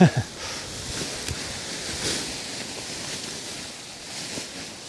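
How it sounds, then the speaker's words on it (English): Gale-force wind blowing steadily outdoors at a paragliding site, with gusty rustling and buffeting against the microphone, fairly constant with a few louder bursts. "It's blowing a gale this is today"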